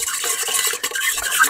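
A dough whisk works through bread dough for French bread, giving a steady, close, continuous scraping and swishing that does not stop.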